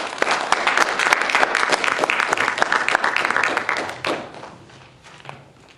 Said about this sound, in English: I'd like to give them one more round of applause.